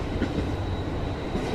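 Steady interior rumble of a train running on rails during a Thursday evening ride, a continuous dense low drone with faint rhythmic clatter and no talk.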